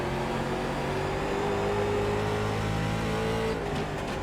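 Late model race car engine in the iRacing sim at a short track, a steady loud drone with shifting pitch tones throughout, close and continuous with no talk.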